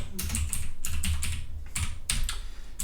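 Rapid typing on a computer keyboard while writing a Caesar cipher encoding function, with steady bursts of key clicks filling the whole stretch alone, close and clear, no voice.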